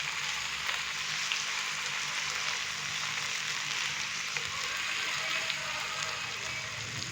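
Chopped tomatoes cook in a pan of fish curry masala, giving a steady, dense sizzle and frying hiss that carries on evenly without talk.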